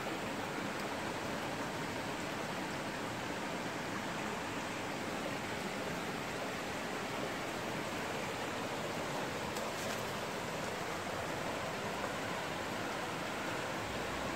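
Rising river after a heavy downpour, flowing as a steady, broad rushing wash of water that stays constant throughout, fairly soft and with no voices.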